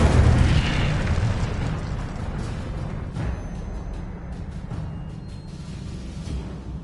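Incendio fire spell in a Hogwarts video game, a loud whooshing burst at the start that fades into a dense, roaring, crackling rumble lasting several seconds.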